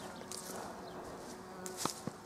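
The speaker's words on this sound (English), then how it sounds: "got a bee buzzing right around my ear" A bee buzzes close around the ear on a garden allotment near flowering sweet peas, a steady hum with faint rustles and a few louder passes.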